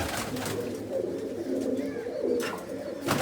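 Pigeons coo softly in a loft, low repeated murmuring calls close by, with faint rustling around them.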